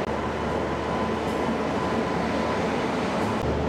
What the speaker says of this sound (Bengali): এই ট্রেনটি কিরণডুল থেকে ফিরলো